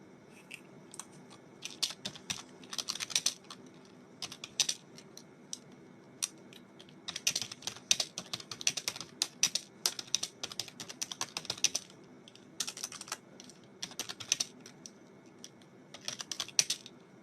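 Rapid, irregular clicking of fingers typing on a computer keyboard, coming in bursts with brief pauses, close and moderately quiet over faint background hiss.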